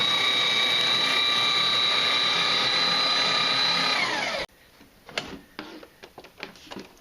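VidaTeco 6-sheet cross-cut paper shredder chewing through paper with a loud steady motor whine for about four seconds, stopping abruptly, then light rustling and taps of paper handling.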